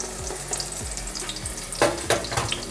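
Steady frying sizzle of poppy-seed flatbread in a covered pan, with soft scraping and a couple of sharper clatters near the end, close by, no talking.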